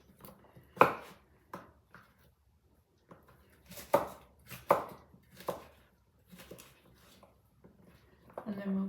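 Knife chopping zucchini on a board while cooking a winter meal, a few scattered sharp knocks with quiet gaps, close and fairly faint, with soft handling noise.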